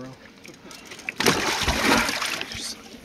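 A musky thrashes and splashes loudly in river water on the French River, a burst of close splatter and slosh lasting a couple of seconds.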